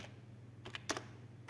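A few soft keystrokes on a computer keyboard enter a short captcha code, sparse close clicks with a brief cluster near the middle over a low steady hum.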